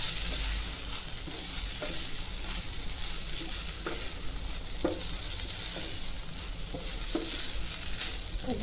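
Leftover cooked rice being stir-fried and tossed with Chinese seasoning mix in a hot pan, a loud steady sizzle with regular scraping strokes of the spatula roughly every second.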